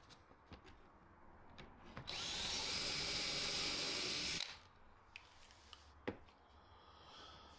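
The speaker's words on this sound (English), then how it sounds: "So I'm going in everywhere now with 35mm torque screws, and I've glued them in as well." Power driver sinking a 35mm torque screw into wood, a single steady high whine lasting about two seconds, surrounded by quieter workshop taps and knocks, with no talking.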